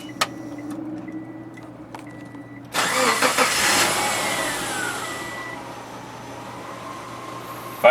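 A rebuilt Subaru EJ25 boxer engine in a 2006 Forester cranks after a few faint clicks and fires up abruptly, then settles into a steady, close idle that slowly quiets.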